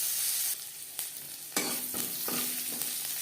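Slit green chilies with dried red chilies and cumin frying in mustard oil, a bright crackling sizzle punctuated by several firm spatula strokes against the pan, close and without any voice.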